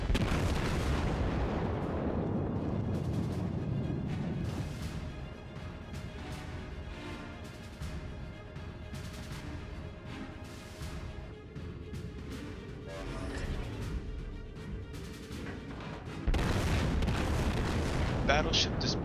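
Battleship guns fire salvos in World of Warships, heavy booming blasts with a rolling rumble that decays, then another loud burst near the end, while a voice talks over it.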